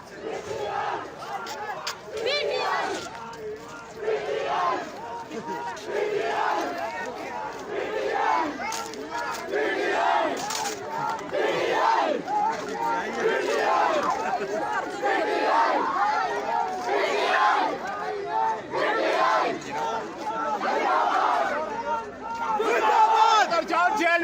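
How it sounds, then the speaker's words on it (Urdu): Young PTI supporters chant slogans in favour of Imran Khan at a political rally in Abbottabad, Pakistan, a loud, continuous crowd roar of rhythmic shouted chants with overlapping voices throughout. "عمران خان کے حق میں شدید نعرے بازی کر کے کہا ایبٹ آباد صرف خان کا"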